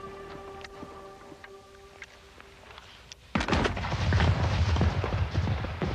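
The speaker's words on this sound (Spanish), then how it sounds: "un disparo señala el inicio de la batalla de Waterloo" A single heavy cannon boom marks the opening of the Battle of Waterloo, erupting suddenly after a quiet stretch and followed by a sustained, rumbling roar of battle.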